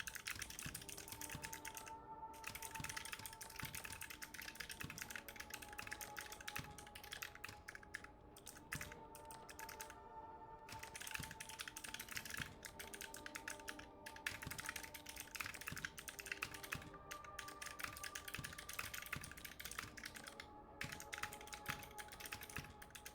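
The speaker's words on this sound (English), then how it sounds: "Hey, I'm trying to type here." Steady, continuous typing on a computer keyboard, a dense run of quick key clicks with a few brief pauses, fairly quiet and without talk.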